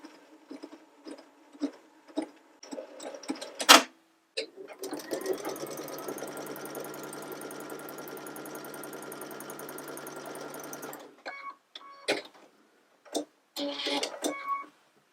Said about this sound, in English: Time to wind another bobbin.